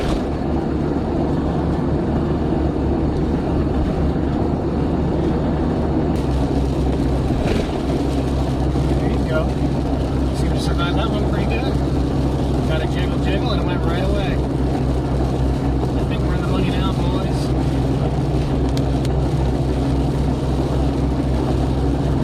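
A 1989 Jeep Cherokee XJ with a Dana 30 front axle, driving on a road without a steering stabilizer, gives a steady loud engine and road drone throughout, with a few faint rattles.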